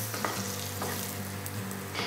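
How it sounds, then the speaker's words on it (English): Red chilies fry in sesame oil with a close, continuous sizzle, while a spatula stirs them with soft scraping touches throughout. "Take 1 tablespoon sesame oil. In that, add red chilies."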